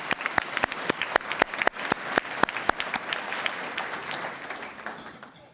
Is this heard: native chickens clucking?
no